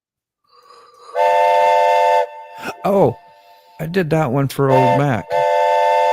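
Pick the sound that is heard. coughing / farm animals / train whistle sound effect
train whistle sound effect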